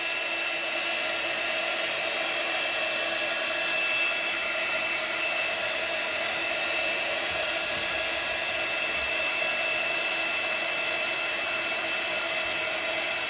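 Hair dryer drying paint on a ceramic coffee mug, a loud unbroken blowing whir with a steady high whine, close and alone for the whole stretch.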